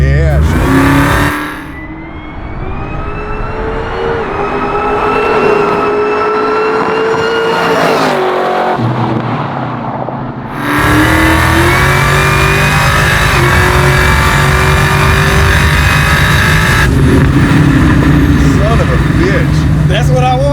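A 760 WHP supercharged 1969 Chevelle engine revs and pulls hard from inside the car, a loud rising roar with gear-change dips and drops in engine speed, while people talk over it.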